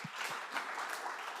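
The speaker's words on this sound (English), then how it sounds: "a round of applause, everybody" Faint, dense crowd applause, an even patter of many hands clapping at once, heard from a distance.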